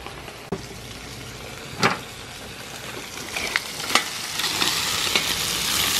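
Steak, bell peppers, onion, pork and beef chorizo and ground beef sizzle loudly and steadily on a cowboy wok disc, with occasional sharp stirring scrapes cutting through the continuous frying hiss.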